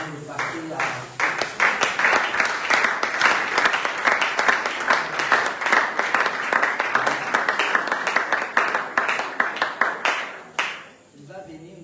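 A church congregation breaks into sustained applause, dense clapping from many people at an evening service that stays strong for about ten seconds before tapering off, with speech heard over it.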